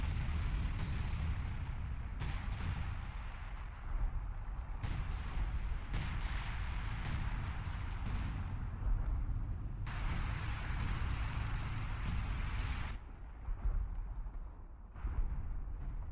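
Artillery barrages pound in a WWII strategy game set in the Battle for Caen, with repeated heavy booms and rumbling bursts rolling over one another and brief lulls between volleys.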